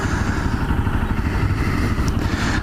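A Honda CRF250L motorcycle engine runs steadily up close, with a continuous throaty rumble and no talking.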